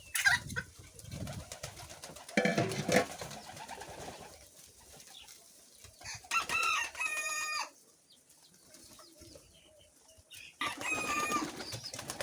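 Pigeons at a feeding spot eating millet and sorghum, giving soft cooing and rustling calls in scattered bursts with quiet pauses between, fairly close and not loud.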